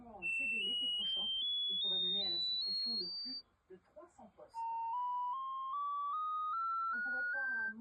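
An iPhone speaker plays rising stepped diagnostic test tones, sweeping upward in pitch in two runs, while a person talks over and between them.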